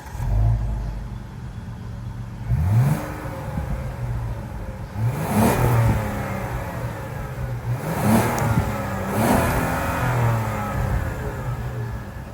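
2025 Kia Carnival SX Prestige minivan's 3.5-liter V6 idles steadily and is revved several times, each blip rising and falling back to a low hum, heard nearby and alone.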